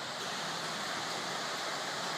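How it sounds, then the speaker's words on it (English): A waterfall in Ukraine: a dense, unbroken rush of falling water, loud and close, with no voices over it. "we finally arrived at the waterfall"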